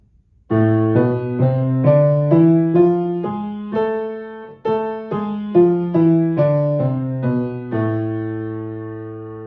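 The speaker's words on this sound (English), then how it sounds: "Here's A harmonic minor." The A harmonic minor scale on piano in even single notes climbs up and comes back down, finishing on a sustained low note, played alone and clearly.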